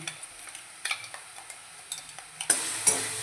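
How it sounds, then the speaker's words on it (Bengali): Tomato paste with ginger and garlic paste fries as a masala in a pan, a soft sizzle broken by irregular scraping stir strokes, followed by two louder hisses near the end, close and fairly quiet with no talking. "এবার মশলাটাকে আমি একটু ভেজে নেব।"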